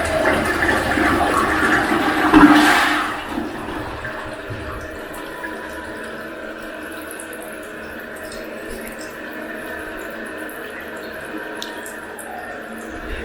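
Water roars down through a converted high tank toilet as it flushes, loud at first and then settling into a steady rushing and refilling trickle that fades to a quieter running flow.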